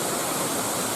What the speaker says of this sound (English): just wouldn't expect this waterfall to be here